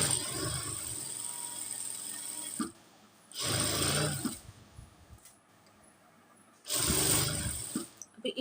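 Sewing machine stitching a pant pocket, running in three bursts of steady mechanical whirring with quieter pauses between them.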